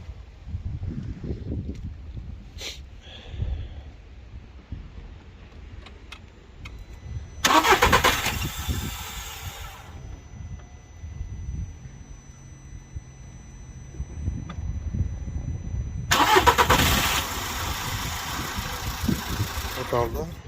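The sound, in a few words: Volkswagen Polo engine starting then stalling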